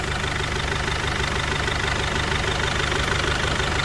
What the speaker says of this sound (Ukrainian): Двигун працює чисто, м'яко, як подобає.